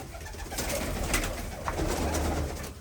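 Balloon pigeons cooing softly in a loft, low repeated throaty coos heard fairly close over a quiet background.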